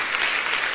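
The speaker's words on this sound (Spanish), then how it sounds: "dele un aplauso fuerte al Señor, por favor." Church congregation applauding the Lord during a worship service, a dense steady wash of many hands clapping at once, close and sustained without pause.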